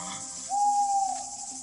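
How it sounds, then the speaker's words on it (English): A single soft, steady hoot of an owl, held for about a second over a quiet background hiss. "And an owl."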